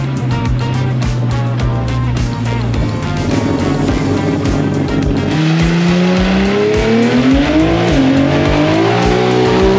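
A big-turbo 2JZ-powered Toyota Cressida street car with a 9-inch rear end accelerates hard in a straight line, its engine loud and close with a rough, uneven note from a misfire running on five cylinders, the pitch rising through shifts.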